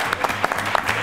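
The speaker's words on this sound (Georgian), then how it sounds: "აპლოდისმენტები ბიჭებს" A short burst of audience applause for a student team at a televised quiz show, with scattered, uneven claps close together over about a second.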